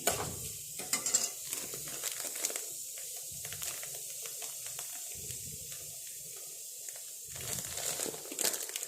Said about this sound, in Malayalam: ആ റേവ ഈ എണ്ണയ്ക്കകത്തേക്ക് ഇടണം അത് പയ്യെന്ന് വറുത്തും എടുക്കാം